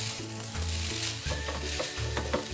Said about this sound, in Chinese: 将米粉从镬底翻拌起，用筷子拌炒